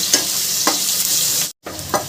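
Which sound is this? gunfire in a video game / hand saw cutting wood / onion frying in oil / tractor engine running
onion frying in oil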